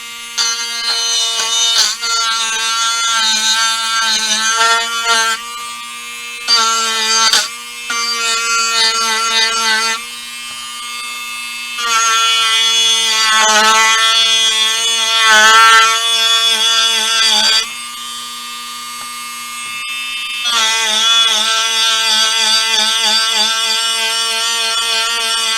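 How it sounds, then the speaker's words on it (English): A wire wheel on a power tool roughing up a surface, a loud high whining buzz in several long bursts separated by short pauses, alone without talk. "So I put the sanding wheel on, the wire wheel on real quick."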